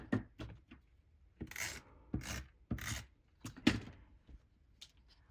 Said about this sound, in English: So we're just going to snip up the center and go from corner to corner.